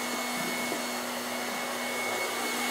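A Paul Mitchell Turbo Light hair dryer fitted with a diffuser blows steadily, a loud, constant whooshing roar with a faint whine running through it and no talking.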